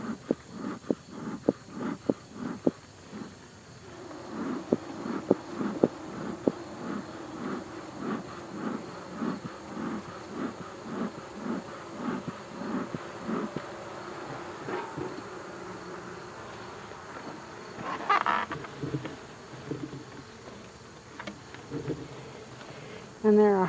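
Bees around a weak hive with hive beetles give a steady insect buzz under intermittent clicks and handling noises, close to the microphone; a person talks in places.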